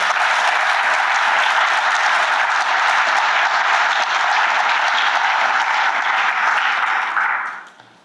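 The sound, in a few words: audience applause welcoming the emcee to the podium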